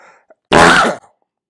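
A single sharp sneeze bursts out loudly and close, lasting about half a second, with near silence before and after.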